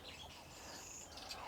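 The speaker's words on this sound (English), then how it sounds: "you can hear those birds are very, very happy" Birds chirping outdoors near a home greenhouse, faint and a little distant, with a few high tweets over soft background noise and no talking.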